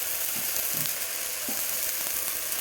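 Spices for a catla fish-head curry (muri ghonto) fry in oil in a pan, making a steady, close hiss with occasional soft stirring scrapes throughout.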